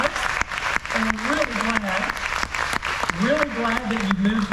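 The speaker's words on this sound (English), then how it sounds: "So we applaud you guys" A church congregation applauds steadily throughout, with a voice speaking over the clapping and a low tonal sound rising and falling beneath it.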